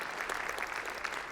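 Audience applause at a keynote presentation at a Getting Things Done summit, a dense, steady wash of clapping from a crowd filling the whole short stretch without pause.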